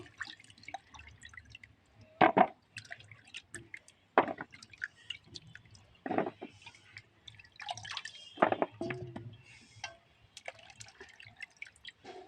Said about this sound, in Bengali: গাজরটা ভালো করে জলে ধুয়ে নিচ্ছি